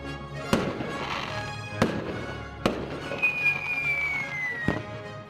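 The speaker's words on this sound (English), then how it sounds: "And so it is, fireworks and the 4th of July." Fireworks exploding outdoors around the 4th of July: four sharp, loud bangs spread a second or so apart, with a rising whistling streak between the last two and a steady background rumble.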